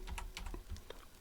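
Typing on a computer keyboard while setting up an e-learning mini game, with light, quick keystrokes tapping out close by in a short irregular burst.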